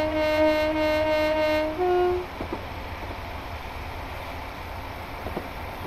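A passenger train bound for Larbert rumbles steadily along the rails, opening with a sustained horn-like tone that fades into an even running roar with a few faint clunks.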